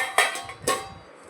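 A container of lemon pickle pieces is set down inside a pressure cooker holding water and a ring, giving two close, sharp metallic clanks about half a second apart, then quiet.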